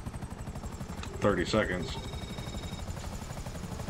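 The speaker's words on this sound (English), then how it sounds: "the helicopter that you're in right now is going to blow up" A helicopter in the video game GTA Online thrums with a steady, rhythmic rotor chop throughout, while a voice speaks briefly over it.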